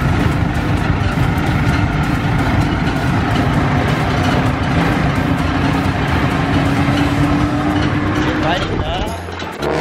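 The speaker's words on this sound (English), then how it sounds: "We're riding the jeepney." A jeepney ride in Naga, Philippines, with a steady loud engine and road rumble running throughout, close and continuous, briefly easing near the end, while people talk over it.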